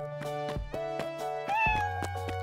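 A cat meows several times in quick succession, close and clear, with the calls rising and falling in pitch over a faint continuous tonal background.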